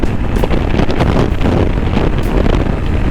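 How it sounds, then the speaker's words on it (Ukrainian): Loud wind buffets the microphone in a constant roaring rush, the blustery noise of riding a Tekken 250 motorcycle at speed wearing a dual-sport helmet without a visor, no voices. "на великій швидкості віє додатковий вітер в лице, а ще й в бік"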